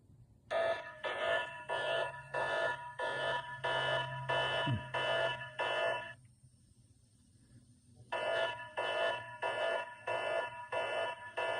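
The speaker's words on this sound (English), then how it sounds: "that is one of the ringer tones for my cell phone" A cell phone ringer tone played through a Baofeng radio transmitter for a fox hunt comes in rapid rhythmic electronic bursts, pausing for about two seconds and then resuming, faint and slightly hissy.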